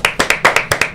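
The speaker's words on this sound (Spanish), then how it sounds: "Recibimos con un fuerte aplauso." Quick, crisp hand claps sound close by, about seven sharp slaps in a brisk, slightly uneven rhythm, as a guest is welcomed on a political talk program.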